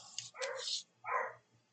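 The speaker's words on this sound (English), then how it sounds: "the dog woke up" A dog that has just woken up gives two short, yappy barks close by, quiet, separated by a brief pause.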